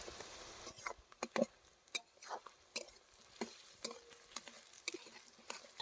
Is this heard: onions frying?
yes